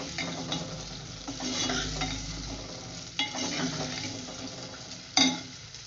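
Arvi (taro) sabzi fries and gets stirred in a pan, a close sizzle broken by scraping strokes of the spatula and a sharp clink of utensil against metal near the end.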